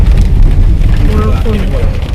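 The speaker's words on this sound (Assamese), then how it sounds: "এতিয়া বেছিহে হৈছে বৰষুণ" Heavy monsoon rain pours down as a dense, loud, steady roar, and a person speaks under the downpour.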